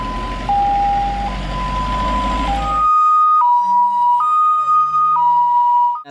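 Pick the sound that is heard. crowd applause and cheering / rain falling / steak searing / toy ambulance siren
toy ambulance siren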